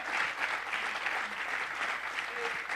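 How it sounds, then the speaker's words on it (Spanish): Steady applause from a church congregation fills the space throughout, a dense wash of many hands clapping at even loudness with no break. "dele fuerte el aplauso al Señor"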